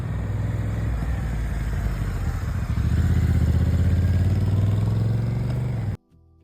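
Honda NT1100 DCT motorcycle engine running steadily up close, a loud continuous low rumble with mechanical clatter that holds for about six seconds and then cuts off abruptly.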